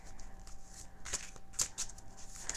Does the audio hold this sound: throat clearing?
no